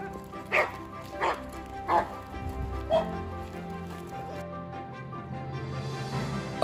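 A dog barks in a series of sharp, evenly spaced barks, four clear ones close together near the start, then quieter yips over a steady background hum.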